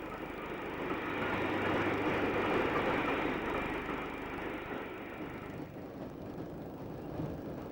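LNER A4 steam locomotive hauling the northbound non-stop Flying Scotsman train at York, a loud broad rumble of the passing train that swells and then eases off near the end.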